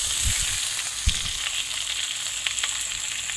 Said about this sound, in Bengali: আর আলু এবং সজনে ডাঁটাকে পুরো তেলের মধ্যে দিয়ে দিলাম।